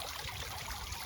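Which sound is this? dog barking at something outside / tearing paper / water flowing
water flowing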